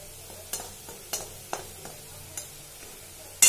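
A spoon stirs tomato and onion paste frying in a pan for paneer bhaji, giving several sharp scraping clicks at uneven intervals over a faint, low sizzle.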